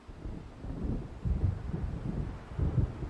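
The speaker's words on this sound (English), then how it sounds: "It seems there's a storm coming." Low rumbling thunder from an approaching storm in Alan Wake, rolling in two or three heavy swells against a windy background, close and fairly loud.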